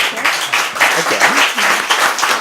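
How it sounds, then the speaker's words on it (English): Audience claps in a steady, close burst of applause at a talk on inequality, a voice murmuring faintly beneath the clapping throughout. "Well, I'm afraid a big applause, he's done a great job."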